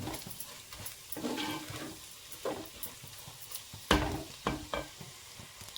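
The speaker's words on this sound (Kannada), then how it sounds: "ಚೆನ್ನಾಗಿ ತಿರುಗಿಸ್ತಾ ಇರಬೇಕು, ಇಲ್ಲಾಂದರೆ ತಳ ಹಿಡಿಯುತ್ತೆ" A spoon scrapes and stirs egg curry masala in a pan, with soft sizzling of oil beneath and irregular, close scraping strokes rising in loudness toward the end.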